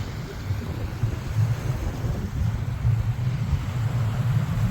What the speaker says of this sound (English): there happens to be an air show going on not too far from here.